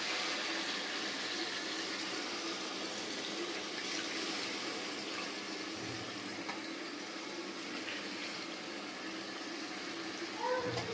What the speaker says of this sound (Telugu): చింతపండు నీళ్ళు ఇప్పుడు మనం దాంట్లో యాడ్ చేస్తున్నామండి